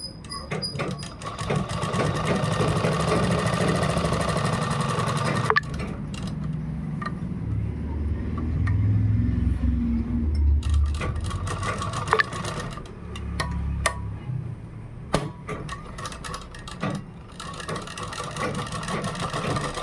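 A sewing machine stitching the lining of a kurta. Its rapid mechanical whir runs in long bursts with brief pauses, close and loud.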